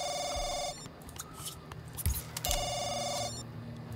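A telephone rings in The Sims 2 during restaurant play: two bursts of an electronic bell tone, close and clear, with soft game sounds between them.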